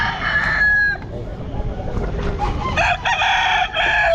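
Roosters crow loudly and close by at a busy Bocaue pet market, two long cock-a-doodle calls with clucking between, over steady crowd noise and someone talking.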